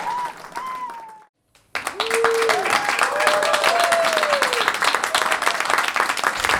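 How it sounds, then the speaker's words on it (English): A comedy show audience breaks into loud, sustained applause and cheering for a comedian after a short pause, with a host talking over the clapping. "big round of applause for Warrick Sutton"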